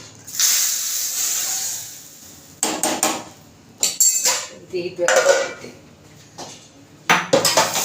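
A metal lid goes onto a steaming pot of sambar amid a hissing boil, followed by several sharp clanks and clatters of metal cookware in bursts, up close.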